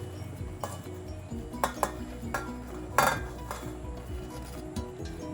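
Rasam ingredients, including tamarind, being mixed in a metal vessel with a spoon: repeated clinks and scrapes of utensil on metal, irregular and close, with one louder clatter midway.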